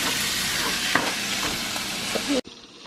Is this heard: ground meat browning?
yes